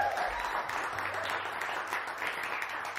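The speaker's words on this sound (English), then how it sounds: "Give him a round of applause." A crowd at a live jazz performance applauds steadily, a dense wash of clapping that holds at an even level throughout without a pause.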